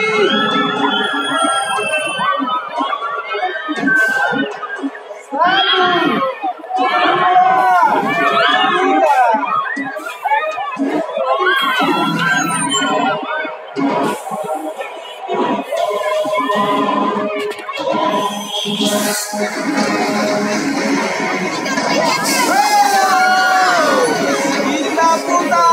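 A crowd of riders, many of them children, screams and shouts loudly on a spinning amusement ride, the cries rising and falling in waves while an announcer talks over them.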